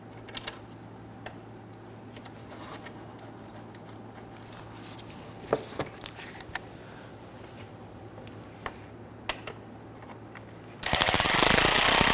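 A power tool drives bolts through a bracket into the lower manifold of a 2011-2015 Kia Sorento; scattered faint clicks and ticks over a low hum give way to a loud, sustained rattling burst at the end.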